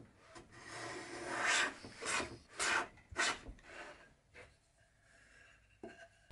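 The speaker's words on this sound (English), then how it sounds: "The shooting board brings the miter down to the knife line." Hand plane trimming a wooden miter on a shooting board for a bedside table, giving a few distinct rasping strokes in quick succession, close and fairly loud, then quieter scraping near the end.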